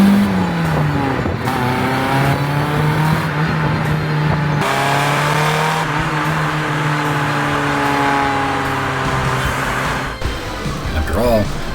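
A Honda Civic fitted with a loud aftermarket exhaust drives close by, its droning, buzzy engine note holding steady for about twelve seconds as the revs rise and dip slightly.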